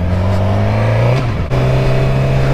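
A 106-horsepower restricted motorcycle engine runs loud and close, holding a steady revving drone with a brief dip before picking back up.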